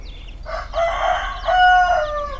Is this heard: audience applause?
no